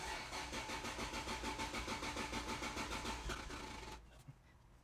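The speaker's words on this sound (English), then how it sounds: "It says that it's ready to crank this thing" A first-generation Toyota Aristo cranking just after a new fuel pump was installed: a steady, rhythmic starter churn repeating for about four seconds, close and loud, then cutting off into quiet.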